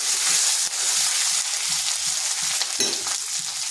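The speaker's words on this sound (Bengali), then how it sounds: "আদাটা হালকা একটু ভেজে নিচ্ছি যাতে তার কাঁচা গন্ধটা চলে যায়" Ginger paste with turmeric fries lightly in hot oil, giving a loud, continuous close-up sizzle with soft rhythmic stirring scrapes and one sharper clatter near the end, no voices.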